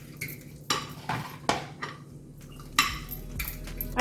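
A spoon stirring lime juice into chopped salsa in a bowl, a close, fairly loud run of clinks and scrapes against the dish at an uneven rhythm, with no talking.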